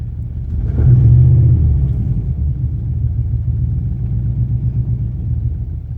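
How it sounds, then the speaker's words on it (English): A 2002 Dodge Durango 4x4 with a 4.7L V8 is briefly revved, its engine note rising loudly, then dropping back to a steady low idle rumble that continues to the end. "We'll give her some gas. See, now it's wanting to stay up, and then it drops way down there like that."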